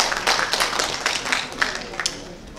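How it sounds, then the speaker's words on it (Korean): Audience applause at a Korean organization's vision proclamation ceremony: a crowd claps steadily in a dense patter of many hands, moderately loud and continuous for a few seconds. "여러분 큰 축하의 박수 보내주시죠."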